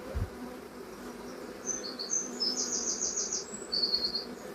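Honeybees in an opened hive during a colony check, with a soft, close buzzing and brief higher whines as individual bees fly past, over a quiet outdoor background.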